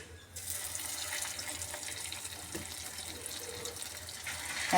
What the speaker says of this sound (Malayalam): രണ്ട് പീസായിട്ട് ഫ്രൈ ചെയ്തെടുക്കാം.